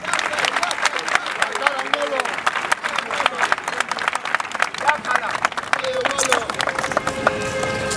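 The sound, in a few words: audience applauding guests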